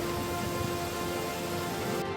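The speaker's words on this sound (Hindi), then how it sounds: "आसमान से बरस रही बूंदें अभी भी लोगों के लिए काल बनी हुई हैं।" Heavy rain falls in a steady, dense hiss during monsoon flooding in Bihar, loud and unbroken with no voices.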